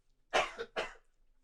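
Two sharp, close coughs in quick succession, harsh and throaty like someone choking on food, then quiet.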